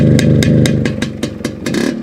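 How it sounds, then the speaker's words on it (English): A 1969 MZ ETS 250/G5 two-stroke motorcycle engine idles and blips with a tight, crackly exhaust note, loud and close, rising and falling in short repeated pulses. "Listen to the exhaust note on this thing. It sounds so tight."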